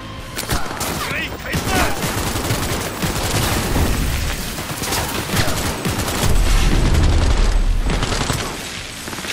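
Sustained gunfire from a Cyberpunk 2077 firefight, dense bursts of shots and booms layered over loud game effects for the whole stretch, with a heavier surge of low rumble near the end.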